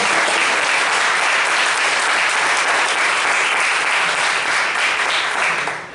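Audience applause fills a seminar hall, loud and dense clapping from a large crowd, sustained without a break and tapering slightly at the very end.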